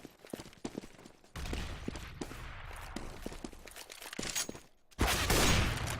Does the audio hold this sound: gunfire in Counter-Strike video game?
yes